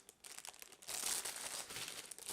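A plastic packaging bag holding a beginner's sketch pencil set crinkles and rustles faintly but steadily for a couple of seconds as it is handled and opened, close by, with no talking.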